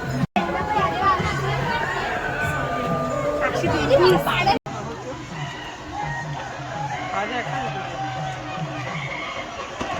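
Sunday crowd at More water park near Mahad, Konkan, a dense wash of many voices chattering and shouting throughout, steady and fairly loud with brief drops near the start and middle.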